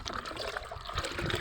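Two-day-old rice-washing water is poured in a steady, close liquid stream that trickles and splashes without a break for the whole moment, with no talking over it.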